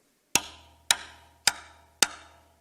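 Four sharp, evenly spaced clicks of a drumstick striking a drum rim, each a bright crack with a short ringing tail, played alone at a steady pace.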